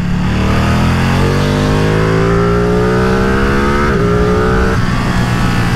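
A Ducati Streetfighter V2 motorcycle engine roars loud and close, revving steadily upward through a long acceleration with a brief dip like a gear change, then climbing again.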